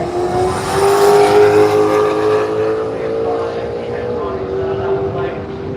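Cars at a drag race at Willowbank Raceway, among them a Supra, roar with a loud engine pass that rises and then fades, while a commentator's voice runs underneath.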